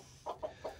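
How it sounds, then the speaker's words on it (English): Chickens in a backyard coop give three short, soft clucks in quick succession, fairly faint over low background hum. "Curious chickens."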